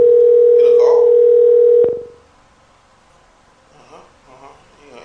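A phone tone while calling a number: a loud, steady tone close to the phone lasts almost two seconds, ends with a sharp click, and a faint voice follows over quiet line hiss.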